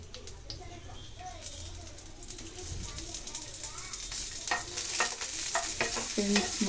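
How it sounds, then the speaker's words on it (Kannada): Cut boiled eggs frying in a little oil for egg biryani, a soft sizzle with stirring and scraping in a pan that grows busier toward the end, under quiet background noise. "ಸ್ವಲ್ಪ ಸ್ವಲ್ಪ ಆಯಿಲನ್ನು ಹಾಕಿ ಸ್ವಲ್ಪ ಇದನ್ನು ಬಾಡಿಸ್ಕೋಬೇಕು"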